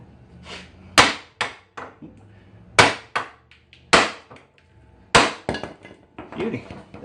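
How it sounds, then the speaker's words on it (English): Sharp metallic hammer whacks strike the wheel hub of a 2005 Honda Foreman TRX500FM ATV to loosen it, about a dozen loud, close, irregular blows with short ringing tails. "we're just going to give a few whacks in there until it comes loose"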